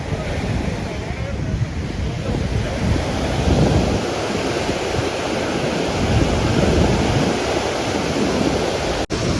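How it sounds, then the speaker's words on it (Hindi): Flood water in Kullu-Manali crashing in waves against a wall, a loud continuous roaring rush with surging swells and wind buffeting the microphone, close by. "जिस तरह से यहाँ पानी का प्रेशर टकरा रहा है ना के, और तुम देख ही सकते हो कैसी लहरें उठ रही है।"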